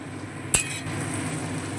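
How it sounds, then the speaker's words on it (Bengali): Spices being stirred into vegetables in a pan for dalia khichuri, a single sharp metal clink of the spoon against the pan followed by a low steady sizzle, close by. "এবার সমস্ত মশলাগুলো আবারও খুব ভালোভাবে সবজিগুলোর সঙ্গে নেড়ে চেড়ে মিশিয়ে নেব"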